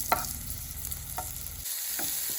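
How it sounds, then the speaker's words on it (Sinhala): Pieces of dried fish hitting hot oil in a pan, stirred around for a simple home-cooked meal, with a steady close sizzle and scraping stir strokes that drop to quieter crackles near the end. "මුලින්ම තෙල් ටික රත් වුණාම කරෝල කෑල්ල දාලා ඒක හොඳට බෙද ගන්නවා."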